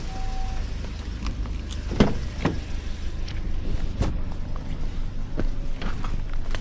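Riding inside a Grab ride-hailing car produces a continuous low road rumble, with scattered soft knocks and taps throughout.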